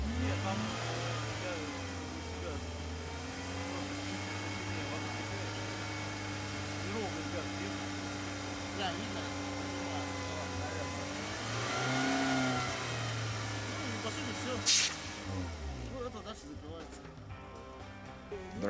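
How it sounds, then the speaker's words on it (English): An ATV dozer's engine runs steadily and revs to pump up a tire through its exhaust-based fast inflation system. The engine drones under a voice, and the pitch swells and dips near the end. "We can pump up the tire very quickly using the exhaust system."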